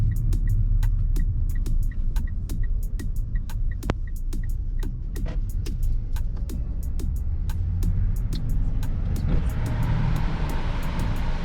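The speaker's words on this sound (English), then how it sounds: "In traffic again, guys." Road traffic in Sydney heard from the street: a continuous low rumble of vehicles with a steady, rapid ticking like a turn indicator, and a brighter rushing swell near the end as a vehicle passes close.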